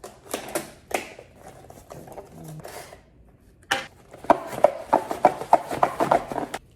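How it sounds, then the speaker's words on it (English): Custom scissors snip through the packaging of a budget front lip spoiler. A few scattered crisp cuts lead into a quick run of sharp, close snipping and clicking, with no talk. "let me get my handy dandy custom scissors here"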